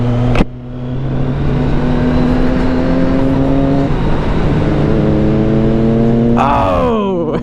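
A Kawasaki Z900 motorcycle's engine drones loud and steady while riding, pitch climbing through the gears with a sharp rev rise near the end.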